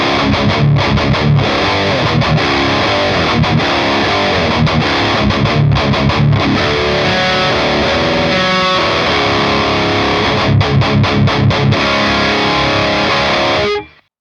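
Heavily distorted electric guitar through an ENGL Ravager amp on its lead channel with the bridge pickup, playing a loud, tight, crunchy riff with rhythmic palm-muted chugs and short pauses for about fourteen seconds before an abrupt stop.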